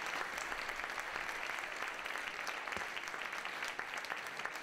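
Steady applause from the audience at a charity concert, dense clapping holding at an even level throughout with no voices over it.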